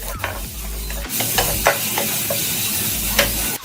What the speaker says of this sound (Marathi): हे हाय फ्लेमवरती मी ह्याला सॉटे करणार आहे